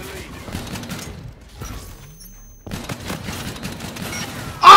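Gunfire from a slow-firing weapon in a video game, bursts of shots dense across the clip with a brief quiet gap midway, loud and close, ending on a sharper blast.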